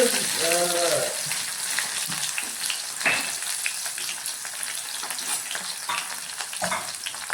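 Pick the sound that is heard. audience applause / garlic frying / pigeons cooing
garlic frying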